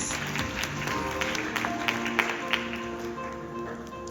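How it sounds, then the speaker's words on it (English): Conference audience applause welcoming a presenter at the Busan International Advertising Festival, a fairly quiet spread of clapping with a few sharper claps standing out over a steady background hum. "Please welcome him with a big round of applause."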